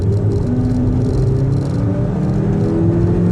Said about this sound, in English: I'm gonna accelerate full in drive.